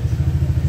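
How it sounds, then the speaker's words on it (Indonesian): A Honda Vario motorcycle engine idles at about 1500 RPM, a close, steady low chugging pulse with rapid even beats, short and loud with no one speaking. "Ini kondisi mesin idle, cuman RPM-nya memang agak besar"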